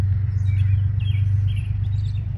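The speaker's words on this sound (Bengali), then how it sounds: "আপনারা শুনতে পাচ্ছেন পাখির সুন্দর গুঞ্জন।" Faint, scattered bird chirps sound high above a loud, steady low hum that dominates throughout, in Hudson River Park's Long Dock area, New York.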